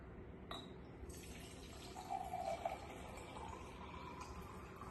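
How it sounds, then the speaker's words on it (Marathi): Clean water poured into a puja kalash during a Navratri ghatasthapana ritual: a soft, quiet trickle that swells briefly midway against faint room hush, with no talking. "आता या कलशमध्ये आपण स्वच्छ पाणी ऍड करणार आहोत"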